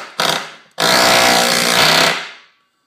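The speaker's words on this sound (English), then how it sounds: "I'm going to show you a nail go into Dan's workbench, which is half-inch plywood" A Craftsman NEXTEC 12-volt G2 auto hammer drives a nail into half-inch plywood on a workbench, giving a short loud hammering burst and then a sustained loud rapid pounding of about a second and a half that fades at the end.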